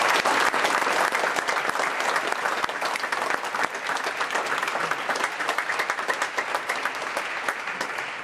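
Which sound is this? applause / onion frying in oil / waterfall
applause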